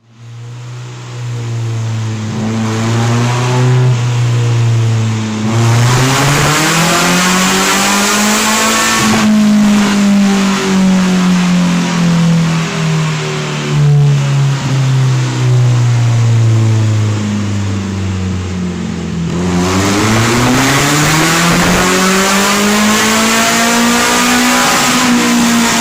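Mazda F1300 race car with a 3SGE engine revs loudly and continuously, pitch sweeping up and down through repeated blips and sustained high revs, close and alone with no voices.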